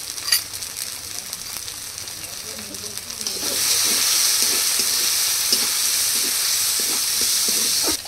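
Spices with turmeric and salt sizzle and fry in a pan, a steady hiss that grows louder midway, with rhythmic scraping strokes of stirring throughout.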